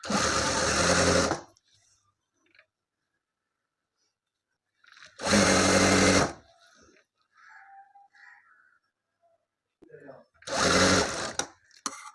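A sewing machine stitches cigarette pant pieces together in three loud, even bursts of rapid whirring, separated by quiet gaps with faint handling sounds.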